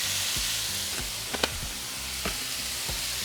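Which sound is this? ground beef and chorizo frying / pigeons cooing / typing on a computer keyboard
ground beef and chorizo frying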